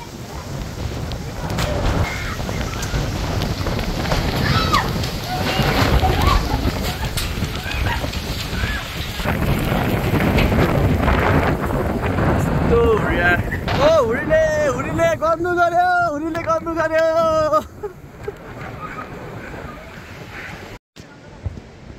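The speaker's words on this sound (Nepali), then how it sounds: "कस्तो ठुलो हुरी कत्रो हुरी आएछ त आज" Strong windstorm roaring and buffeting the microphone in a steady loud rush, with a person speaking over it and a brief high voice or bird-like call near the end.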